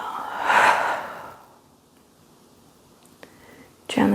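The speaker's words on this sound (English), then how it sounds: "And exhale." A single deep, breathy exhale during yoga breathwork swells and slowly fades, followed by quiet with a faint click and a soft rustle at the end.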